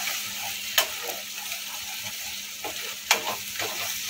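Paneer bhurji frying in a pan with a steady low sizzle, while a spoon stirs and scrapes it in a few sharp, irregular strokes; no talking.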